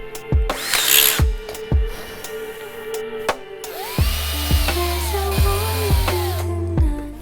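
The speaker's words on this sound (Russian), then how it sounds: "Нам будет легче просверлить все эти стороны и сразу же вкрутим саморез." A power drill bores into wooden boards for a homemade pet bed, then drives self-tapping screws in several short, loud bursts with rising whine, alone without talk.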